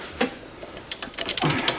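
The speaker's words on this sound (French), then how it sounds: "Bon, on va serrer la dernière vis." A wrench tightens the last screw on an upper or lower suspension link of a BMW 330d E92, giving short bursts of rapid mechanical clicking up close.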